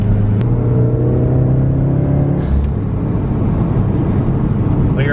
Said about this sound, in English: I did a pretty hard pull in third